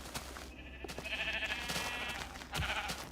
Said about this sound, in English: sheep also have something new. If you listen close, they have a sound effect also.